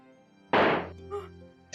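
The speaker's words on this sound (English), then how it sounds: "What's up with that muffled gunshot? You need a more realistic one" A muffled gunshot sound effect from the Ace Attorney courtroom game fires as a single loud, dull thud, followed by a quieter tail and a faint second knock, with steady game music beneath.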